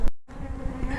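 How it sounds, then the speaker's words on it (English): Honey bees buzzing around a hive box during a frame salvage, a dense close swarm hum that drops out briefly after a sharp bump, then resumes steady and loud. "These bees here will go around."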